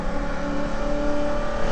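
A Holden Commodore VK V8 race car pulls flat out in second gear at Bathurst, heard onboard as a loud, steady, rising engine drone with strong harmonic tone and no talking.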